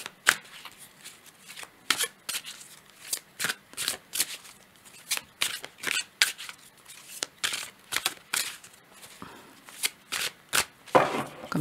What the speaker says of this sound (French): Je vais prendre 4 cartes